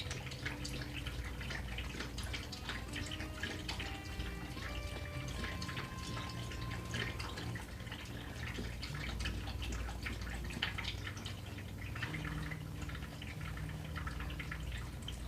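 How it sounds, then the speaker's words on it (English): A dog laps water in a continuous, wet splashing and dripping pattern that stays close and fairly quiet. It goes on unbroken for about fifteen seconds against a soft background hiss, with no speech. "Now the dog's drinking the water."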